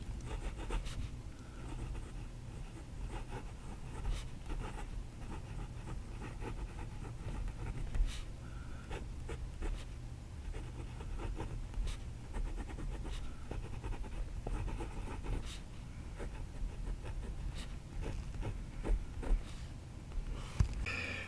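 A Wancher Puchico small fountain pen with a fine nib scratches across paper in soft, close, continuous strokes with brief pauses, quiet and alone.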